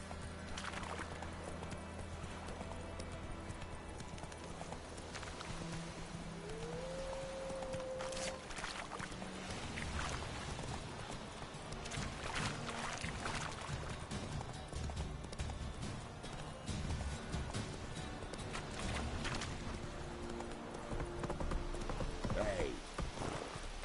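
Roach, Geralt's horse in The Witcher 3, canters with steady rhythmic hoof clip-clops under a low game soundscape, with brief tonal cues and a few faint voice bits over the run.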